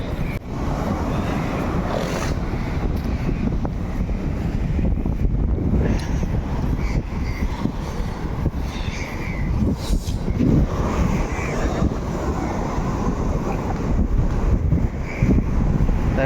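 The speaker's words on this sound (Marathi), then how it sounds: "सध्या समुद्र खवळलेला आहे पावसामुळे खूपच." Rough sea churned up by rain, with steady wind buffeting the microphone and a continuous low roar of surf, loud and unbroken throughout.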